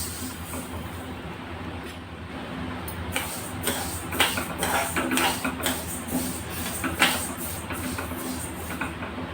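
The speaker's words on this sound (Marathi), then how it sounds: "ही मोहरी बघा, आवाज येत असेल तुम्हाला, मोहरी फुटत आहे" Mustard seeds crackle and pop while dry-roasting in a pan, a scattered run of small sharp clicks building in density over the steady hiss of the stove, with no talking.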